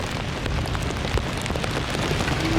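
Steady, dense rain pours on a mountain hiking trail on the way to Kedarnath, a close, even hiss of drops hitting the ground throughout with no voices.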